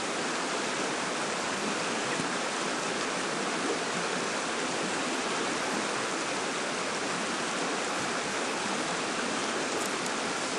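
Close river rapids rush in a steady, dense roar of white water that never lets up, with no voices over it.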